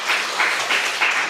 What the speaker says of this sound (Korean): 박수 한번 치시면서 환영해 주시기 바랍니다